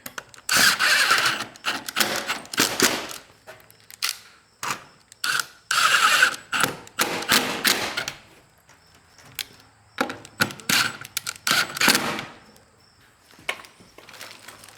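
A power drill drives screws into wood while a walk-in chicken coop is built, giving repeated loud bursts of whirring and ratcheting with short pauses between them, heard close with no talking.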